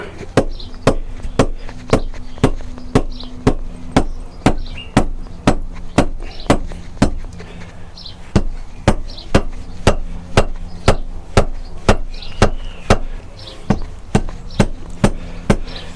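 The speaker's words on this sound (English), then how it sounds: "Just whack it in different places with your rubber hammer." Steady, rapid rubber hammer blows strike a Honda CBR1000F motorcycle engine's cylinder head over and over in an even rhythm, each hit a sharp dull thud, loud and close.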